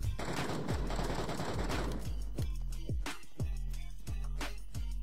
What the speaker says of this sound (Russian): там он еще стреляет слева